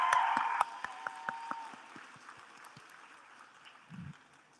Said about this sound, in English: Let's get out a round of applause.